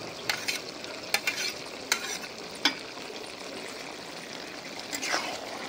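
Shrimp are added to a simmering bottle gourd and potato curry and stirred in. A few sharp spoon clinks against the pot sit over a soft, continuous bubbling and sizzle.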